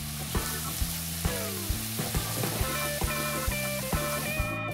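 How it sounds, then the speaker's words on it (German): Finely diced onions sizzle in hot oil in a pot for a barbecue sauce, a continuous frying hiss under a steady background of rhythmic music with regular beats. "die wir jetzt erbarmungslos ins heiße Öl schubsen und erstmal scharf anbraten"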